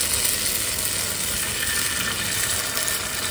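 Appe batter sizzles steadily in a hot appe pan, a continuous close frying hiss that stays level throughout with no voices.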